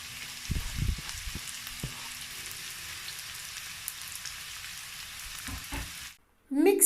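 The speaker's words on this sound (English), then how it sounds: "I'm going to allow the onion to fry for at least 1 to 2 minutes" Chopped onion frying in about two tablespoons of vegetable oil, a steady close crackling sizzle with a few stirring knocks early on, briefly cut off near the end.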